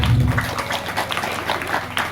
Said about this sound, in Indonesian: tepuk tangan sekali lagi untuk tim terpadu 1